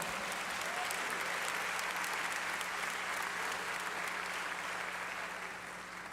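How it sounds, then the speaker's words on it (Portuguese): A church congregation applauds at a Sunday service, a steady dense wash of many hands clapping that continues evenly and tapers slightly at the end. "Então, igreja, aplauda o Senhor."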